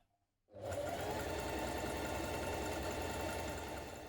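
Stitching down the inner leg seam of a onesie, a sewing machine starts after a quiet moment and then runs steadily and evenly without pause, close and moderately loud.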